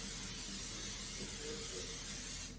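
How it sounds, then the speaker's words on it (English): Olive oil cooking spray hisses onto a skillet in one steady, continuous burst lasting a couple of seconds, close and fairly loud, with no talking. "I'm going to spray my skillet"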